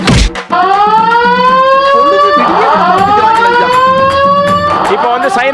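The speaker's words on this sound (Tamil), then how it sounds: "இப்போ வந்து சைரன் வந்தது" On a comedy cookery show set, a loud wailing electronic siren sweeps up and down repeatedly, with people talking and shouting over it.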